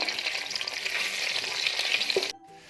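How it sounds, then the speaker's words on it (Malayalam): Raisins fry in hot oil with a dense, steady sizzle and crackle that holds evenly, then cuts off abruptly near the end, leaving near silence. "കുറച്ച് കിസ്മിസും കൂടി നമുക്കിതൊന്ന് ഫ്രൈ ചെയ്തെടുക്കാം."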